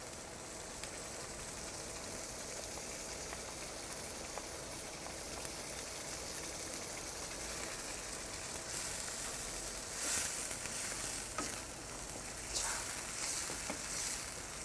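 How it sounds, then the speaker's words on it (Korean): Ragu sauce with milk simmering in a pan, a continuous soft sizzle and bubbling crackle that holds steady throughout, with a few brief stirring scrapes near the end. "우유를 넣고 충분히 졸여줍니다."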